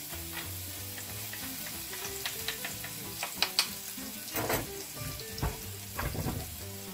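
A garlic clove sautéing in the pan used to sear lamb shanks, with a steady moderate sizzle and scattered spatula taps and scrapes, no one speaking.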